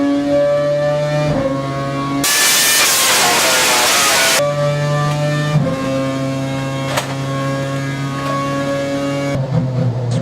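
A Formula 1 engine running on a dynamometer test bench at Viry-Châtillon, its steady high-pitched drone rising and falling through revs with a sudden loud surge midway, near and dominant throughout.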